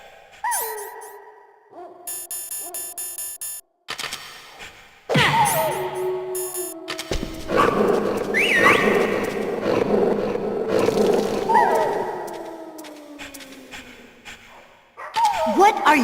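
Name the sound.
dogs barking in Metal Gear Solid video game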